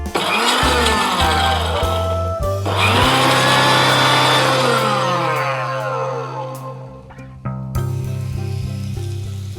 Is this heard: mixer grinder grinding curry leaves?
yes